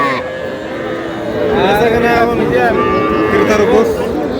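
A young bull calf moos loudly and repeatedly, close by at a cattle market, with people talking around it.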